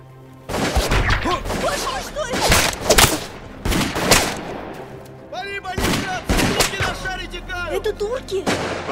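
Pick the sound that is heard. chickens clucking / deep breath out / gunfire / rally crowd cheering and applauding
gunfire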